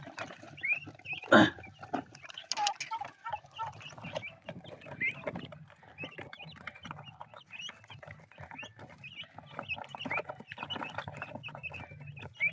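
Farmyard bird calls, a fighting-cock rooster and a turkey among them, rise out of a busy outdoor mix of animal noises, with a sharp crow standing out early on.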